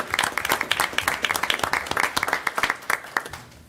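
Applause from parents, students and families at a Rocky Hill board of education meeting, a smaller group of distinct, sharp hand claps in an uneven patter, fairly close, with no talking.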